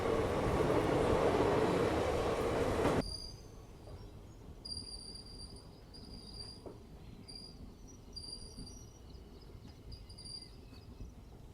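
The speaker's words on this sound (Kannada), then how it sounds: "ಇಲ್ಲೇ ಬೆಂಗಳೂರಿನಿಂದ ಸಿನ್ನೂರಿಗೆ ಹೋಗುವಂಥ ಎಕ್ಸ್ಪ್ರೆಸ್ನು ಅರೈವ್ ಆಯ್ತು ನೋಡ್ರಿ" A Bengaluru express train rumbles loudly into a station for the first few seconds, then drops away, leaving quieter ambience with chirping insects and faint rail squeaks.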